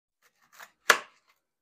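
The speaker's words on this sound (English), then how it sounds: "If you can cut a steak like this with a plastic knife, you got your damn good steak" A plastic knife saws into a restaurant steak in two short strokes, a faint scrape followed by a sharper, louder crisp cut, close by in otherwise near silence.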